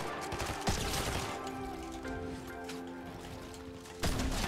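Gunfire in Fortnite Season 3, with crackling shots and mechanical clatter running steadily under the game's ambient hum, plus two louder bursts near the start and end.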